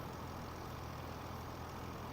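A tractor engine idling in the Farming Simulator 25 video game, a steady low rumble that holds at constant level throughout with no voices over it.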